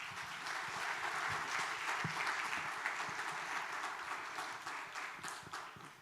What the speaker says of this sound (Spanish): recibamos con un fuerte abrazo y aplauso a Loreta